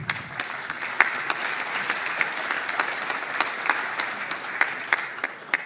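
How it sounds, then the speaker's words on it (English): Steady applause from a conference audience at closing remarks, a dense continuous patter of many hands with scattered sharper claps, moderately loud and without voices. "Big applause."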